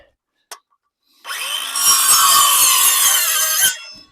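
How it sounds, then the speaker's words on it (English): Handheld circular saw cutting through wood, a loud close whine rising after a brief tap and holding steady for about two seconds before stopping abruptly. "Can I use my handheld circular saw?"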